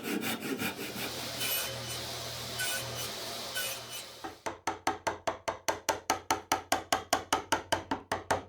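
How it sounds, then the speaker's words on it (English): A hand saw cuts dovetail pins in thick walnut, first as a steady hiss of shorter strokes, then as a crisp, rhythmic run of regular back-and-forth strokes, close and clear. "And now I'm going to cut the pins in the walnut parts, which are thicker."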